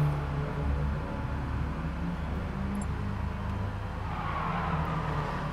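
Engine noise from race cars lined up for a race start in the Gran Turismo game GT Sport, Mini Madness event, a steady droning rumble held at one level throughout with no clear revving peaks.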